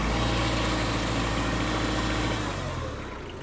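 A Mitsubishi MT-246 mini-tractor engine runs steadily at close range with a dense, even diesel clatter, then its pitch and level drop slightly near the end.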